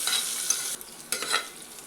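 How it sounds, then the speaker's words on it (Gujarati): Onions sauté in a pressure cooker with a bright hiss. It drops briefly, then returns with a few scraping stirs. "ડુંગળીને આપણે થોડી વાર માટે સાતળી લેવાની છે"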